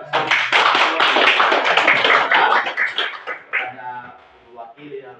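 Audience applause at a school curriculum module presentation in Indonesia, dense clapping for about three seconds that thins out and fades, with talk breaking in near the end.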